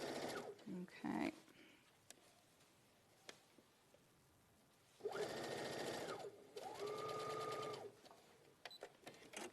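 Sewing machine stitching a quarter-inch seam, two steady bursts of a few seconds each, close and moderately loud, with quieter handling noises and a brief voice at the start.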